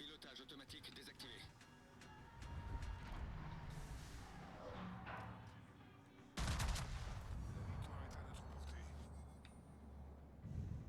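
Warship naval guns firing in World of Warships, a deep heavy boom followed by a sustained rumbling roar, with someone speaking over the steady engine and sea ambience.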